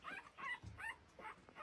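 A small puppy gives a run of soft, high yips and whimpers, about four short calls in quick succession, faint and somewhat distant.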